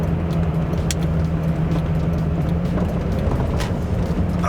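A V10 Lamborghini with a gated manual shifter driving slowly on snowy roads without snow tires, its engine a steady, continuous low drone under light throttle with a constant road rumble.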